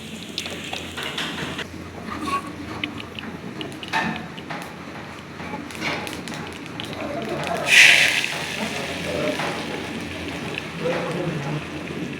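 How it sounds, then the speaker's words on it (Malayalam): Mustard seeds tempered in hot oil for Kerala-style tapioca give a continuous close sizzle with scattered popping crackles, including a sharper burst near the middle. "അതിലേക്ക് നമുക്ക് കടുക് താളിച്ചൊഴിക്കാം"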